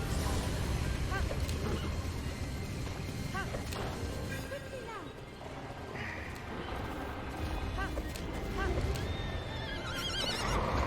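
Horse neighs and whinnies in Zelda: Breath of the Wild, several loud whinnies with hoof clip-clops over busy game music, while a player talks over it.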